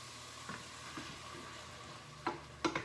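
Bone broth being stirred into a cauliflower risotto in a pan, with a few soft scrapes early on and then louder clustered stirring and clatter near the end, no talk.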